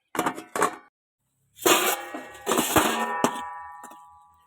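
Metal cookware clangs while a village-style bitter gourd stir-fry is prepared, as a lid goes onto the cooking pot. There are two quick clinks, then a cluster of louder clangs with ringing metallic tones that fade out.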